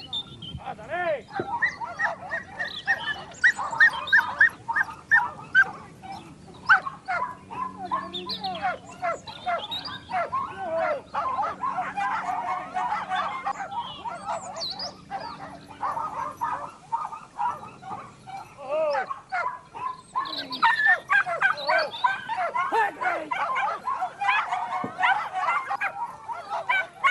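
A pack of hunting dogs bays and barks at cornered big game during a Spanish montería hunt, dense overlapping yelps and barks throughout, with a voice speaking over them.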